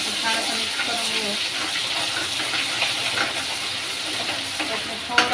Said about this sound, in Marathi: आता आपण अद्रक लसूण पेस्ट टाकून घेऊ आणि छान करून छान असं मिक्स करून घेऊ